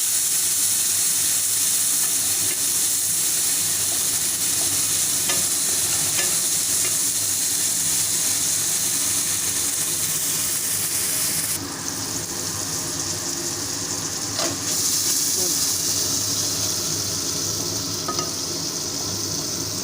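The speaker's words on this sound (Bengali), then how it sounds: "এরপর মশলাটাকে আরও ভালো করে কষিয়ে নিচ্ছি" A spice paste is stir-fried in a pan for a Bengali cauliflower and potato fish curry after a little water goes in: a loud, steady sizzle and hiss runs throughout, with spatula scrapes and stirring on top and no talk.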